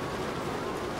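Steady, dense rain hiss fills a wet race in the F1 2016 racing video game, a close, even wash of falling rain with no talk over it.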